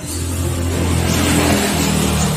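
A tuned Yamaha Jupiter MP4 130cc motorcycle engine revs on a test run, a loud, close, buzzing drone that climbs to a peak midway and then eases off slightly.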